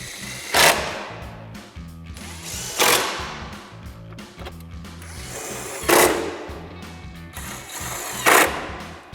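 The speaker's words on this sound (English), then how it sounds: "Then we're gonna reinstall our 4 T30 Torx screws." Power tool driving four T30 Torx screws while reinstalling a Diode Dynamics Elite Series LED fog light on a 2021-2023 Ford F-150, with close, loud whirring bursts recurring at a steady pace over a low mechanical rumble.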